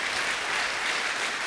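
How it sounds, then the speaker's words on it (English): An audience at a university convocation claps in a brief, even burst of applause, fairly faint and heard without talk. "So let's give them a round of applause."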